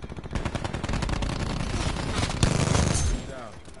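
Video game gunfire rattles in rapid automatic bursts, loud and close, with a heavier blast near the end before it drops away; voices speak faintly under the shooting.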